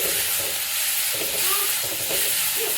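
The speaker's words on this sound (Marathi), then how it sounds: "आता आपण इकडं हे हिरव्या मिरची आलं लसूण वगैरे बारीक करून घेतलेले आहे ते घालूयात आणि हे सुद्धा आपल्याला चांगलंसं परतून घ्यायचं" Chopped green chilli, ginger and garlic sauté in a pan for an okra dish, making a continuous close sizzle and steamy hiss with soft stirring sounds and no talking.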